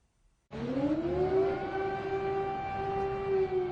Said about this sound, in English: Air raid sirens blared across Kyiv on Thursday